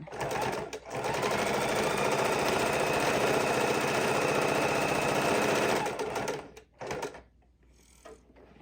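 A sewing machine stitching down quilt fabric with blue thread runs at a fast, even pace for about five seconds, then slows and stops, followed by a few short mechanical clicks.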